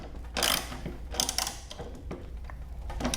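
A ratchet wrench with a 13 mm socket and a 6 mm hex bit tightens a bolt on a titanium-finish carbon slip-on exhaust on a Ducati motorcycle. Close, brief bursts of clicking ratchet rhythm come and go over a low background hum.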